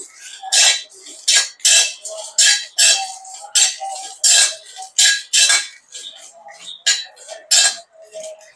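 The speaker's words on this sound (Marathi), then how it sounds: "आणि किसून ठेवलेलं खोबरं हे आपण छान भाजून घेऊ" Grated coconut dry-roasting in a pan as a spatula scrapes it around in about a dozen quick, rhythmic metallic strokes, close and fairly loud with no speech.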